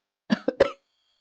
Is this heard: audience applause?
no